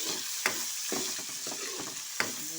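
Onion and garlic sautéing in a pan for spaghetti sauce, a continuous sizzle with several sharp spatula scrapes and stirs at irregular intervals, close and alone.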